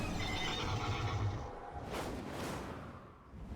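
A winged horse mount in World of Warcraft neighing, a loud whinny at the start followed by a rushing whoosh and softer hoof and movement sounds.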